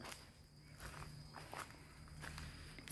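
Footsteps crunch along behind a single rural house with a fenced back yard, a series of soft, fairly close steps against a quiet outdoor background with a faint insect drone.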